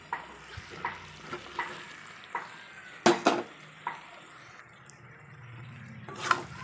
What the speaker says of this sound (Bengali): এবার ইঁচড়গুলো অ্যাড করে দেবো ওর মধ্যে